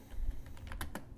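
Quick keystrokes on a computer keyboard while coding in Google Colab: a run of light, irregular clicks, close and fairly quiet, with no voice.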